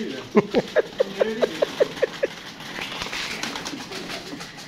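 A pigeon coos in a quick series of about eight soft, evenly spaced notes, close by, with faint outdoor ambience afterward.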